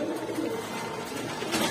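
A pair of high flyer pigeons kept at a pigeon shop give low, rolling coos that run continuously over faint background noise, near and fairly soft.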